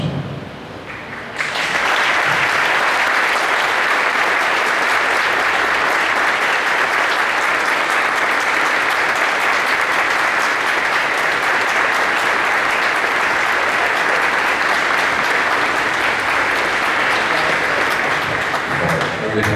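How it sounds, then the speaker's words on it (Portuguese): A church congregation applauds newly baptized members as they enter, a dense, steady wash of clapping that starts after a short quiet moment and carries on loudly for the rest of the clip. "À medida que eles entrarem, vocês vão recepcioná-los com palmas, ok?"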